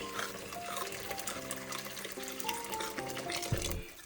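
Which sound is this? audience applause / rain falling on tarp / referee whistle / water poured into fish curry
water poured into fish curry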